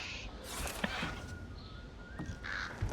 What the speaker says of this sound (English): Wow, birds.